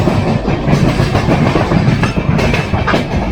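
The Duronto Express train running on rails between Delhi and Mumbai, loud close clickety-clack of wheels over track joints with a constant rolling rumble.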